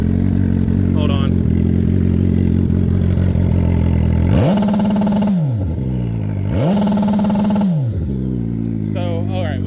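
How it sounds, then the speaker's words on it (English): A turbocharged 2008 Suzuki Hayabusa GSX1300R sitting at a lumpy idle, then revved hard twice in quick succession, each climb holding briefly before dropping back to a rough, close, loud idle. "Let's hear the two-step since it's in first."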